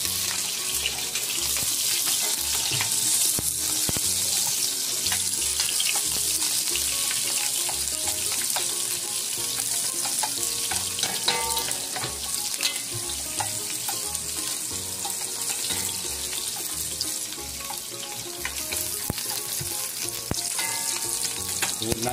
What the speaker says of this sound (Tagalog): Ayan natin maluto ang sibuyas.